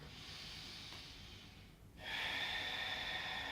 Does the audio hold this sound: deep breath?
yes